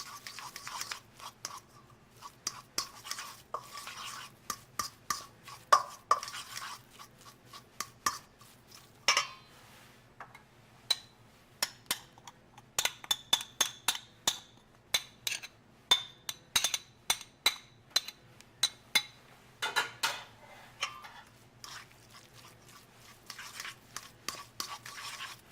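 A fork stirs and mashes deviled egg yolk filling in a bowl, giving many quick scraping clinks against the dish in an irregular run, close and fairly clear with no talk.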